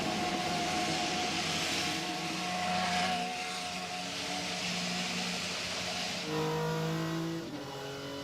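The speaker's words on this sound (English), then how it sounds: "Drivers, start your engine!" IndyCar race car engines fire up and rev together at Phoenix Raceway, a loud, sustained multi-car roar with rising and falling revs. One engine surges higher near the end.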